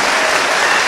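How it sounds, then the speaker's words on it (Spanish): A brief, loud burst of dense applause comes from a congregation at a live Catholic gathering with Padre Luis Toro. It is a full, steady wash of clapping lasting about a second. "A fuerte aplauso para este hermano."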